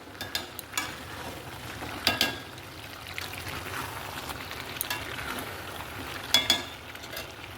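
Chicken sautés in a pan at a gentle, fairly quiet sizzle, with occasional clicks and scrapes from stirring scattered across the stretch and no talking.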